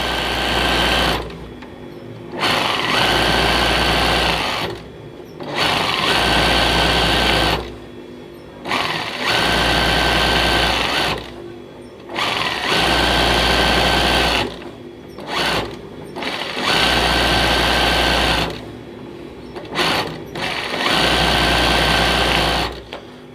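Embroidery sewing machine stitching leaf shapes, running in steady bursts of a few seconds each with brief pauses between, loud and close with a constant motor whine and rapid needle clatter.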